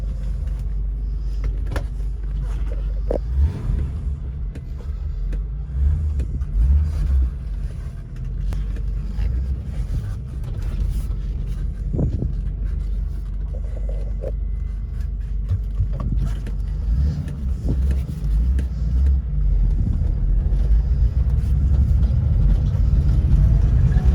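A BMW E30 325e engine rumbles steadily as the car is driven and turned around, with low drone and occasional bumps and rattles throughout, no talking.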